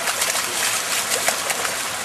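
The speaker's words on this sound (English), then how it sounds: "Yo, it's splashing me." A fish thrashes in a net and sends up continuous, close, hissing water splashes and spatter with no pause.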